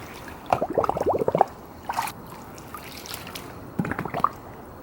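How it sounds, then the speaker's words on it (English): Water and trapped air gurgle and bubble through an Intex pool vacuum hose in uneven bursts, with wet glugging clusters separated by quieter stretches. "Lift it up to get the water running through into the other parts of the hose, and you can hear the air coming out"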